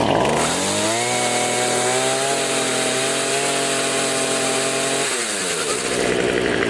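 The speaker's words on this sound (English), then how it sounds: "that blade's going to start spinning just as soon as the saw starts up here" A gas-powered pole saw engine revs loudly and close, its buzzing two-stroke whine rising, holding at a high steady pitch, then climbing again with no talking over it.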